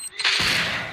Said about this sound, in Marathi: ग्रेनेड टाकला कोणीतरी.